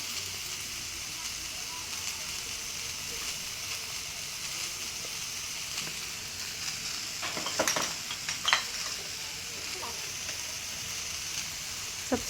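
Spice paste and coriander fry in a pan with a steady, close sizzle throughout, broken near the middle by a few sharp scraping clinks from stirring.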